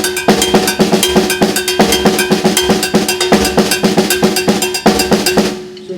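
A cowbell is struck at a drum clinic in a quick, steady rhythm of bright metallic clanks, loud and close, stopping abruptly near the end.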